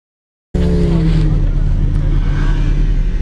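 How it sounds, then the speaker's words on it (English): A manual Lamborghini Diablo 6.0 VT V12 engine starting abruptly into a loud, deep, steady close-up rumble. "A manual Lamborghini. Rob Dahm's Diablo."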